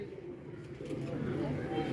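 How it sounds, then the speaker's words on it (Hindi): Pigeons cooing during a pigeon-flying contest, soft low throaty coos rising over outdoor background noise and faint voices. "ये कबूतर आ रहे हैं जी"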